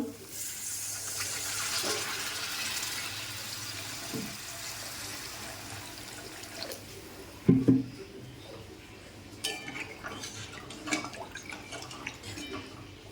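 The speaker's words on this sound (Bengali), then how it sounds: "এবার আমি দিয়ে দেবো জল।" Water is poured from a vessel into a pan of cooked fish curry masala, a soft steady hiss of pouring followed by a few sharp clinks and knocks of utensils against the pan.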